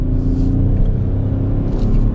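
A 2022 Hyundai Bayon Ultimate engine revs hard and pulls through a gear change, a steady close-up rumble and whir from inside the car with no talk.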